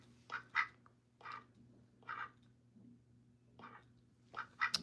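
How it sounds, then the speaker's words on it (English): A pet house duck quacks in short bursts, about six separate calls spread unevenly, close and moderately loud over a steady low indoor hum. "Olivia's a house duck."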